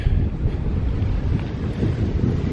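Strong wind buffeting the microphone outdoors beside the water on a fishing outing, a loud continuous low rumble with gusty swells, no voices.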